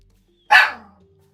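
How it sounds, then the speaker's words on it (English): A small dog gives a single short, sharp bark, close and clear, then quiet. "Sorry about the little doggy."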